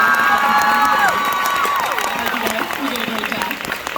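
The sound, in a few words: audience applause at a fan convention panel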